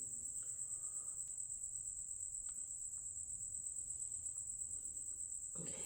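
Crickets chirp close overhead at night outside an old county courthouse in Doña Ana County, a steady, piercing high trill that runs unbroken throughout over faint background noise.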